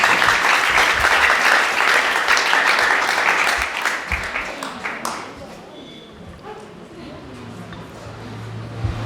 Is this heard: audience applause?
yes